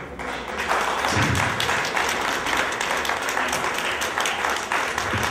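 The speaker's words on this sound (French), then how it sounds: "Il faut continuer d'applaudir." Audience applause at a cultural evening, a loud, full round of clapping from a large crowd that swells after a brief quieter start and stays strong throughout, with occasional thumps and light voices in the mix.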